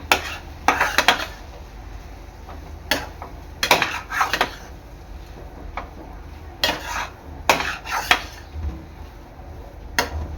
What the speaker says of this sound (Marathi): 1-2 मिनिटांनंतर शिरा आपला परतून घ्यायचा आहे।